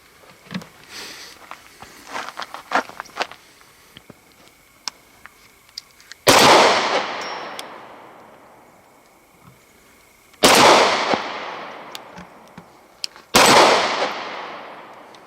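Glock 19 Gen 4 9mm pistol firing three loud, sharp shots outdoors, each with a long decaying echo, spaced a few seconds apart after a stretch of quieter rustling and footsteps.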